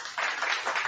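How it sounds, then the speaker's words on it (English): Brief burst of applause from a small group, a dense patter of claps that stays loud and steady for about a second. "I'm gonna give it an applause."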